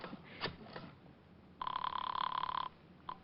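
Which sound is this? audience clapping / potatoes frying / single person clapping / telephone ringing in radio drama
telephone ringing in radio drama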